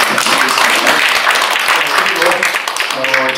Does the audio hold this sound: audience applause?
yes